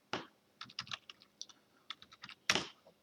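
Code being typed on a computer keyboard: a quick run of crisp key clicks in short bursts, close and clear with no talking.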